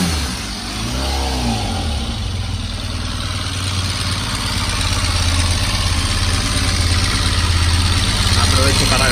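Honda RC30 (VFR750R) racing motorcycle with a V4 engine and gear-driven cams running steadily close by, a loud constant rumble with a slight rise toward the end, with a brief voice near the start.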